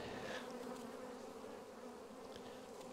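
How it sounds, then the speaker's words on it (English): Honey bees buzz inside a full hive box, giving a dense, continuous close-up drone with a steady tonal hum and no voices. "This one is a full box of bees."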